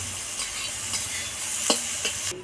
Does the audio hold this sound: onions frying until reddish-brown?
yes